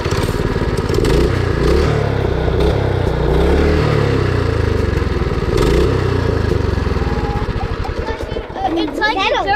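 A small mini bike engine revs hard and repeatedly, buzzing and rising in pitch with a clattery rasp, close by and loud, with kids chattering around it.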